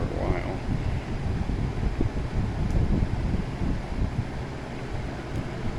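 A 1990-1991 Lasko model 4723 electric fan runs steadily, giving a continuous broadband whoosh of moving air with a low rumbling hum, loud and unbroken throughout, with an air conditioner also running nearby.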